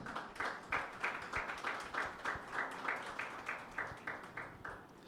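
A church congregation on Pentecost Sunday claps for Jesus in steady unison, an even rhythm of roughly three claps per second that keeps a regular pulse throughout.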